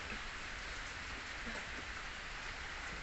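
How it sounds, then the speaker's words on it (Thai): Steady rain falls outside a rural Thai home with rubber trees, a dense, even hiss with soft pattering drops throughout and no voices. "ฝนตกอยู่เพื่อนๆฝนตกอยู่ตอนนี้"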